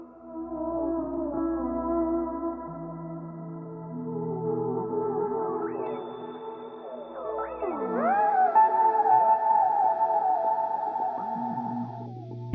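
Layered music runs through a chain of Boomerang and Count to 5 pedals feeding an Ottobit and a Thermae, with sustained tones, swooping pitch bends and jumpy glitchy repeats, steady and moderately loud with no talking.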